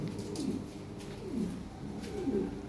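Low, repeated cooing of a Lahore pigeon, rolling coos close by in a steady rhythm with a faint background hum.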